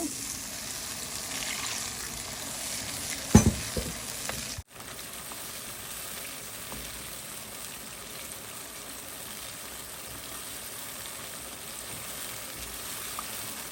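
Mustard paste frying in a pan for a hilsa fish curry, a steady soft sizzle running throughout with a brief clatter of utensils early on.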